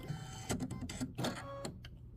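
Domestic sewing machine running a quilting stitch on a small quilt block, a steady mechanical whir with rhythmic needle thumps and brief pauses, close and moderately loud, no voices.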